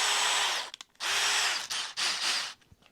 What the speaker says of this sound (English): that drilled out nicely